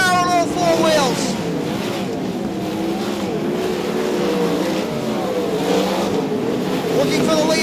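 Sprint car engines roar and rev continuously at Archerfield Speedway dirt track while an excited announcer talks over the noise.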